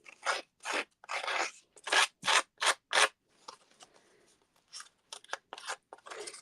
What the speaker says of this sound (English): we want to come with our scissors